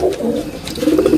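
A female pigeon coos close by, a low, rolling, throaty call repeated in soft pulses with no talking over it.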